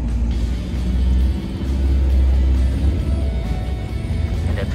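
A VW double cab pickup's air-cooled engine with dual side downdraft carburetors runs nearby, giving off a steady, loud, low rumble with slight surges and no talking.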